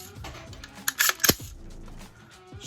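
An AR-15 rifle's charging handle is pulled back and released twice, giving a cluster of sharp metallic clacks and snaps close up, with quiet handling noise around them.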